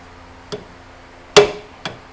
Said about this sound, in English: Get you a nice hammer. I call this the persuader.